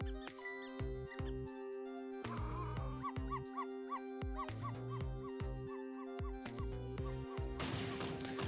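A cartoon dog in the Ghost Trick video game gives short, repeated yips and barks over looping game music with bright, tonal melodic notes.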